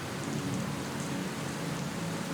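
Video game rain: a dense, steady hiss of rainfall on surfaces, even and unbroken throughout, with no talking over it.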